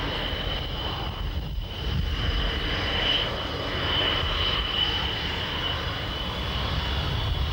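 Steady roar of a MiG-29 Fulcrum fighter jet's engines, a continuous broadband rumble with a whining high tone on top, swelling slightly and holding loud throughout.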